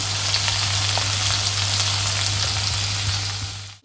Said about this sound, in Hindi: अब जाएगा इसमें टमाटर, हम इसे ज्यादा नहीं भूनेंगे,